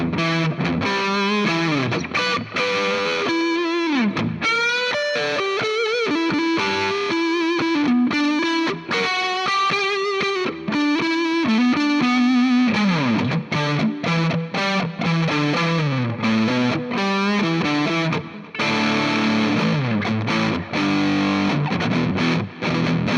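A Harley Benton SC Custom (Ocean Flame) electric guitar plays on its neck pickup alone through a distorted, effects-laden tone, a loud sustained riff of chords and single notes for over twenty seconds with no talk.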